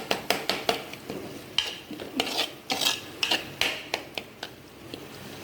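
Mutton with ginger garlic paste and garam masala being stirred and sautéed in a pot for Dindigul thalappakatti biryani, with repeated scraping clinks of a metal spoon over a soft sizzle, close and steady.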